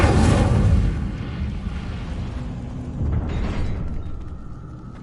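A fire spell, Incendio, cast in Hogwarts Legacy bursts out as a loud, rumbling blast, then settles into a steady roar with a second swell near the end.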